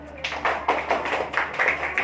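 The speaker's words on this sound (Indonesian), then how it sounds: "ini nanti tepuk tangan." Schoolchildren in an elementary classroom clap together, a near series of quick, irregular claps in short bursts, loud and close in a small room.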